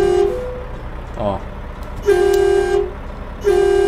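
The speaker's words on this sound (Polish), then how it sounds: "To mam klakson." A truck horn in American Truck Simulator gives three short blasts, each with a bright, steady tone, over a low engine rumble. A brief spoken syllable falls between the first and second honks.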